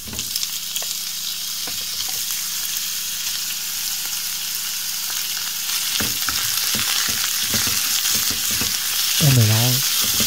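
Ground meat sizzles loudly in a hot pan, a continuous close frying hiss broken by scraping stirs and spoon clicks, with a brief clatter near the end.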